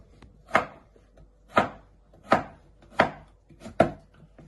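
A knife chops through courgettes on a board, halving them and cutting medium chunks, five distinct crisp thuds spaced roughly evenly about a second apart, close and clear with no talk.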